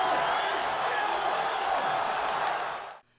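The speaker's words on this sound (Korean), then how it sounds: "유럽의 강호 포르투갈을 무너뜨리는 골이 터지자 환호성이 터져나옵니다." A roaring crowd cheers after Morocco scores against Portugal in a World Cup quarter-final, a loud, dense wall of shouting and whooping that holds steady, then cuts off abruptly at the end.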